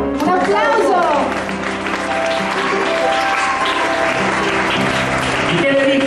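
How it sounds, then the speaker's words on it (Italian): An audience applauds at an Italian broadcast event, with loud, dense, sustained clapping that fills the whole stretch, mixed with a voice speaking over it. "Un applauso!"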